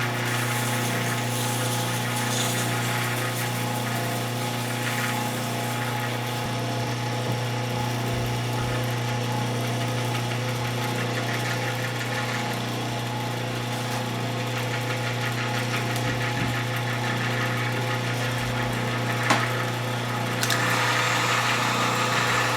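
A heat gun blows steadily to set the finish on a handmade real wood ink pen, a continuous close droning hum with a motor-like tone that holds even for over twenty seconds, with no talking.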